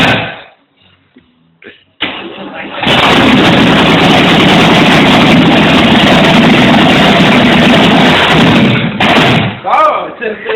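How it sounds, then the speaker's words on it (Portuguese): A motor starts with a knock and then runs loud and close, roaring steadily for several seconds before cutting off abruptly. "eu vou botar andando o motor."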